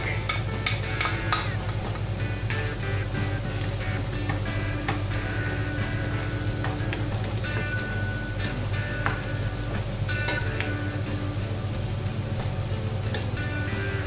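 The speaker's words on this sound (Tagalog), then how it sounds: "we will wait until the garlic will be a little bit brown." Garlic fries in a pan with a constant close sizzle and crackle that carries on through the stretch, over a steady low hum and some light ticking.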